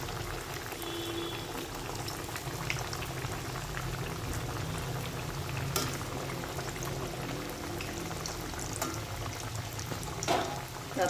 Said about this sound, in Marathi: आता या मस्त ब्राऊन कलरच्या येईपर्यंत तळून घ्यायच्या आहे